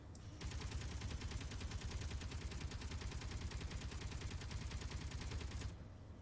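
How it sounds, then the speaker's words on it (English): A Gatling gun in the video game Space Engineers fires one unbroken, very rapid stream of rounds for about five seconds, a dense rattling burst that starts and stops abruptly. "Gatling gun"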